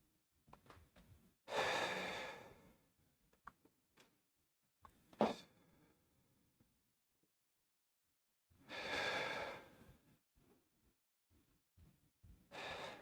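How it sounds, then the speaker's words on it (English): Slow, deep breathing after gym exercise: two long, loud breaths several seconds apart, close to the microphone, with small clicks and rustles between them and no talking. "take a little longer breath in, a little bit longer breath out"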